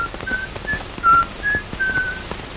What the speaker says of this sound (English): The boys come out of hiding when they hear the secret whistle.